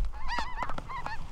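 Snow geese honk in a loud, close flurry of overlapping calls during a South Dakota spring hunt, with several sharp honks rising and falling in quick succession.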